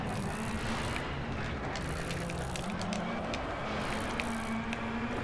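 A rally car driving on gravel in WRC: Rally Evolved, a steady engine drone with a sustained tonal hum and a constant crunchy gravel hiss, even and unbroken throughout.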